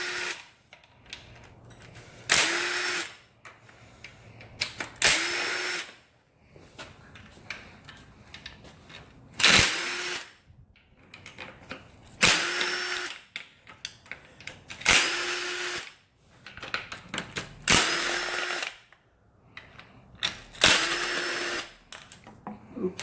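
Mr. Zippy power tool zipping engine bolts off, seven or eight short loud whirring bursts spaced a few seconds apart, with clanks and handling noises between them.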